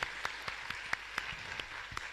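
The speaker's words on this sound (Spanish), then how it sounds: "Así que fuerte aplauso, gracias por venir también." Scattered applause from a church congregation during a live parish Mass at Cristo Solidario in Asunción, with a handful of distinct claps spaced through a soft, thin patter, fairly quiet and with no talk over it.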